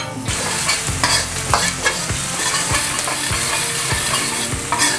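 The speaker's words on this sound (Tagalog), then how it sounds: "Lagyan lang tayo ng butter. Lagay natin yung ating sibuyas." Onions fry in butter in a pan with a loud, close sizzle, and a spoon stirs them in regular scraping strokes roughly every half second. No voices are heard.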